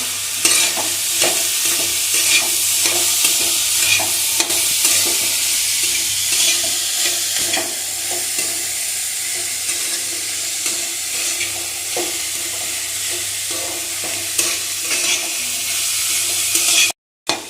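Finely chopped cabbage and vegetables for momo filling are stir-fried in a pan. A loud, continuous sizzle runs under frequent scraping stir strokes, close up and without speech, ending in a brief clatter.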